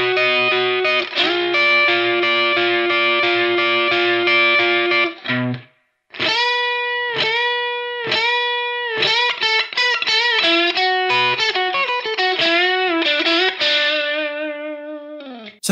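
Strat electric guitar plays a blues song, opening with sustained, overdriven chords and then moving into a run of bluesy single-note licks with bends, loud and close with no talking.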